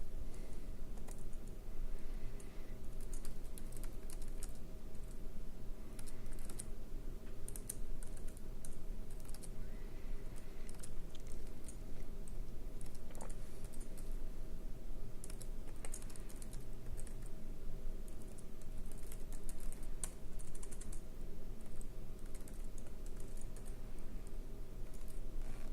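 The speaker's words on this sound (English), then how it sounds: "So I'll type some code in here and then I'll explain it in a moment." Steady typing of code on a computer keyboard, a continuous patter of close, quiet key clicks running throughout without pause or speech.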